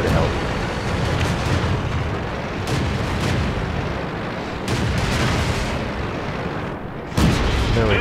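Type 2597 Chi-Ha light tank gun firing in World of Tanks, heavy booming shots at intervals over continuous engine and battle rumble, loud and close.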